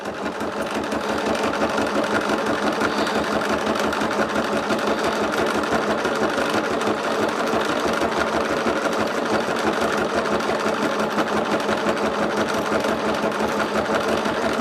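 An embroidery machine sews a satin stitch on a lumbar pillow piece, its needle hammering in a fast, steady mechanical rhythm that runs without a break from start to finish.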